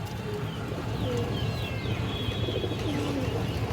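Pigeons coo near a pair of black-necked high-flyer pigeons, low repeated calls over a constant background of rustling and chirps, with no talking.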